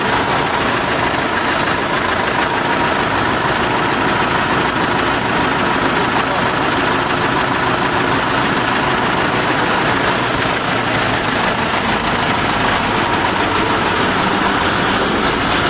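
A tow truck's heavy diesel engine idling loudly and steadily in a parking lot while lifting a car, a constant low rumble filling the whole stretch with some mechanical noise mixed in.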